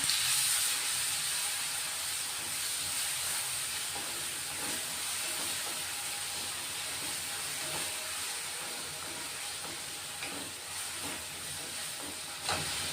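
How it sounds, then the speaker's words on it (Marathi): A ground paste of chili, garlic and cumin fries in a hot pan, giving a steady, loud hissing sizzle that holds for the whole stretch, with a few faint clinks and no talking. "मिरची, लसूण आणि जिरे याचं वाटण करून घेतलंय, ते टाकून घेतोय. आता चांगलं परतून घेणार आहे त्याला."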